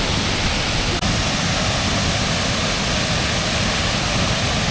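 Waterfall in the Scottish Highlands: a loud, steady, dense roar of falling water that fills the whole clip without a break.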